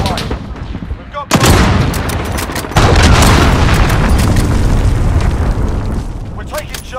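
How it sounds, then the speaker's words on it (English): A cruise missile strike in Call of Duty: Modern Warfare lands as a heavy, booming explosion followed by a long, loud roar of blast and debris, with game radio voices faintly present. "I like the cruise missile"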